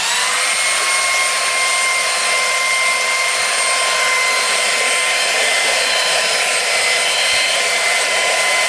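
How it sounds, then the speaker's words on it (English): A belt sander runs steadily, loud and close, sanding down Bondo hole fills on a wooden TV stand with a continuous high whir and hiss and no break, alone without talk. "now I'm going to use the belt sander to just sand them down"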